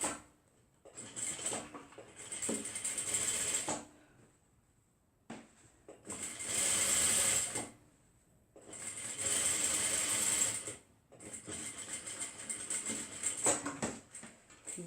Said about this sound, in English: Back stitch for the gap we left to open our fabric later on.